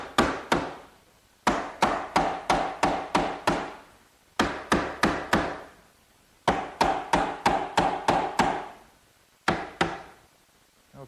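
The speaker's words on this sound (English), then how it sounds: "now I'm going to put the horizontal members in, and I'm putting them in dry" Wooden horizontal members of a chair table being tapped into place dry, in bursts of quick, sharp, hollow knocks, about five to eight per group with short pauses between, close and clear.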